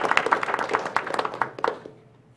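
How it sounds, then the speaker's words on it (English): A small audience at a city commission meeting claps, scattered individual hand claps forming light, uneven applause that thins and fades out over the last half-second. "We can clap, everyone."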